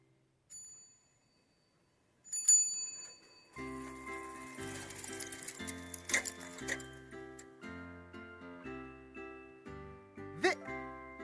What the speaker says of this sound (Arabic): دراجة.